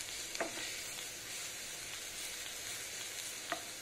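Garlic paste sizzling in a pan with browned onions, a steady soft frying hiss broken by a couple of sharp scrapes from a spoon stirring the mixture.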